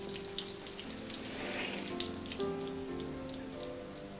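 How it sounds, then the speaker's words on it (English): Water is sprinkled from a sponge onto an abrasive-covered lithography stone during graining, giving soft wet patters and dribbles, close and fairly quiet, with a few faint clinks underneath. "I take a sponge with water, and I just sprinkle a certain amount of water on this"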